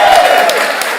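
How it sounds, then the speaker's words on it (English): Loud, dense audience applause at a festival session, continuous clapping from a crowd with a faint voice briefly audible at the start. "A giant round of applause."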